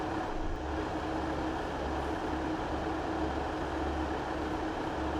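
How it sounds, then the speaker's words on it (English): A Transport for Wales Class 150 diesel unit idles in the Train Sim World 6 game, a steady low engine rumble and throb heard from the cab with windows open, continuous and unchanging with no voices. "Listen to the idling as well."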